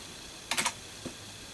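A few quick keystrokes on a computer keyboard, three rapid clicks followed by a single fainter tap, close and clear in a quiet room with no talking.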